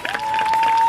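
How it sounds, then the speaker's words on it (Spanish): Carnival murga audience at an outdoor corso gives a brief burst of applause, dense clapping under a steady high electronic tone from the sound system. "Un aplauso para los pioneros"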